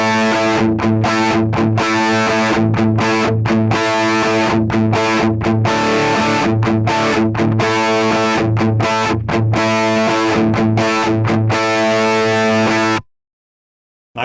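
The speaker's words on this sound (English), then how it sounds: "it's just playing this slightly simpler high riff that sounds like this." Simpler high-register electric guitar riff on a Line 6 Helix, heavily distorted with effects; loud choppy phrases broken by short rests, no talking, ending abruptly in silence.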